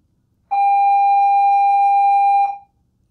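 A steady electric bell rings during a math lesson on exponents, one continuous bright tone lasting about two seconds before cutting off, loud and alone with no talking over it.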